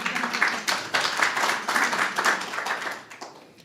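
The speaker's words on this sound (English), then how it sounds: "Once again, a round of applause to the writer and to the artist." A round of applause from the audience at an art exhibition and book launch in London, brisk dense clapping that swells in waves and fades out after a few seconds.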